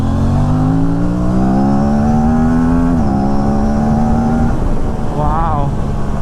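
A KTM RS 457 motorcycle pulls hard with the throttle wide open, its engine note rising steadily in pitch, dipping briefly at a gear change and climbing again, loud and close under constant wind rush.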